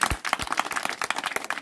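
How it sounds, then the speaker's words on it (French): Applause for a newly installed chief at a ceremony in Kouagna, Cameroon: a crowd clapping in quick, uneven bursts, close and fairly loud, with no voices over it. "Applaudissons pour le chef."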